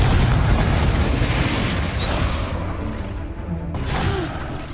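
A deep rumbling boom from the Confringo fire spell in the Hogwarts Legacy video game, a sustained roaring explosion with a second burst near the end, loud and dense.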